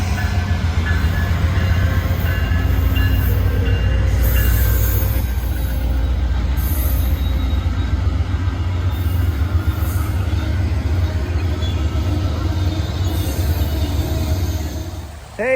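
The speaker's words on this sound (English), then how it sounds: "Here comes the Sweet Lorraine's train. The Ethan Allen Express." The Ethan Allen Express passenger train, known here as Sweet Lorraine's train, rolls past an off-grid cabin with a heavy, steady low rumble and wheel noise, plus faint rhythmic clatter and squeal as the cars go by.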